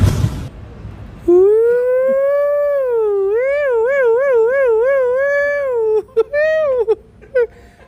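A voice imitates a wailing emergency siren, rising and warbling up and down for several seconds, then breaking into a few short yelps.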